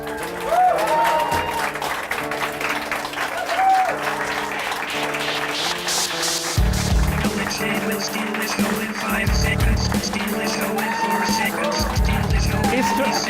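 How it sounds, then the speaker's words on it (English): Studio audience applause welcoming wrestler Alex Shane as a guest on a wrestling talk show, steady clapping with light cheering running long under music and a voice. "He's stringing out that applause."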